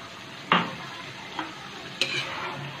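Beef karahi with yogurt stir-fried in a pan, steady sizzle underneath with a few sharp scraping stir strokes close by.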